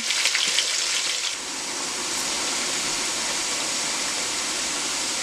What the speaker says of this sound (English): I have the onion fry for 10 minutes